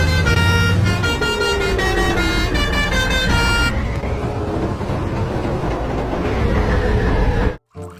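A toy telolet bus horn plays a bright, loud multi-tone melodic toot for several seconds, then gives way to a steady noisy hum before ending abruptly.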